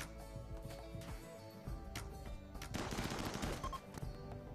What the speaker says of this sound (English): Red's gonna get shot by our own turrets here.